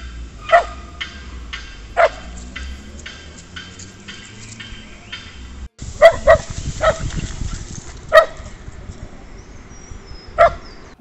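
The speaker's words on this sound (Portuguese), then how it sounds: "ela dá bastante trabalho, ela late muito" A dog in obedience training barks in sharp, loud single yaps spaced a second or two apart, about eight barks in all, with a faint ticking backdrop and no talking.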